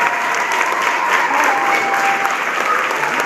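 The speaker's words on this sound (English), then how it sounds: "Let's have one more round of applause for all the classroom" Audience at a school Christmas musical applauding the classroom teachers, a full, even wash of clapping from a crowd that holds steady throughout, with a faint tonal hum beneath.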